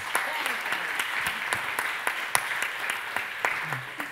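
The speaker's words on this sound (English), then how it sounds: "And Shelley Page, UK, with applause, please" Audience applause at a Eurovision-style song contest event, a steady wash of hand claps with sharper individual claps standing out, running continuously at moderate loudness with faint voices underneath.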